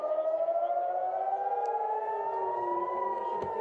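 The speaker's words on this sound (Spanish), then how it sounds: "donde sonaron sirenas de emergencia que alertaron a los ciudadanos" Emergency civil defense sirens wail in Haifa, Israel, a steady loud tone slowly rising in pitch, with several sirens overlapping into one sustained blare with no voices.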